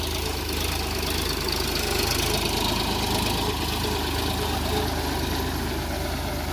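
A tractor engine runs close by in a field, lifting groundnuts in Gujarat, in a loud, steady, unbroken rumble that holds at the same level from start to finish.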